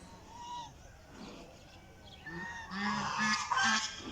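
A long-necked bird, probably a goose, gives several honking calls that grow louder and more frequent toward the end, heard outdoors with faint background noise.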